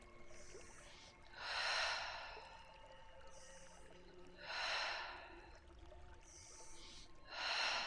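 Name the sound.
breathing during warm-up exercise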